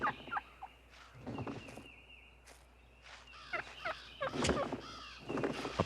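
Wild turkey toms give repeated bursts of loud, rattling gobbles during their strutting display, the calls overlapping in quick succession against a quiet outdoor background.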